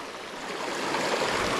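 A small stream in Béarn rushes steadily over its bed, a broad continuous wash of flowing water that swells slightly louder toward the end, close and alone with no voices.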